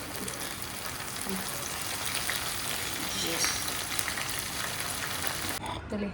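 Mangalore-style fish fries in a pan with a dense, steady sizzle that sounds like heavy rain, close and constant, before cutting off abruptly at the end.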